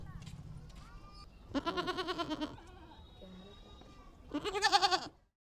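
Goats in Bodhgaya, India bleat nearby in two loud, wavering calls separated by a quieter stretch, with background sounds between them.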